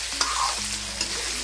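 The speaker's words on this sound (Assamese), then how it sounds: "ইয়াতে দি দিম আলু আৰু পিয়াজখিনি যিখিনি কাটি ৰাখিছো সেইখিনি দি ভালদৰে ইয়াকো ভাজি" Potatoes and onions sizzle and fry in a pan for an Assamese duck curry, with a steady close hiss and a few stirring scrapes, no voices.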